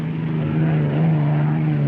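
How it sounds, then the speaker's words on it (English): Thunderbolt, an unlimited hydroplane racing boat, roars with a loud, steady engine drone, close and continuous, with no voices. "That's the motor of an unlimited hydroplane."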